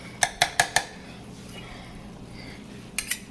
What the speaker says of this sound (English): Just gonna continue to stir it up.